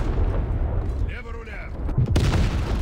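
Heavy battleship cannon fire from the USS Arizona in a naval combat video game, heard as rumbling booms with a sharp blast near the end, under steady game noise and a voice talking.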